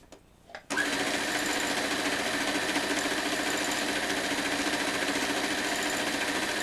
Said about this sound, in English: because I'm sewing with the fabric on top and the t-shirt on the bottom